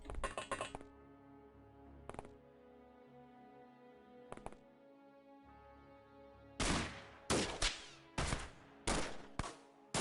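Gunfire from assault and sniper rifles in the X-Com Files video game: scattered single sharp cracks early on, then a dense burst of loud repeated shots toward the end, over faint game music.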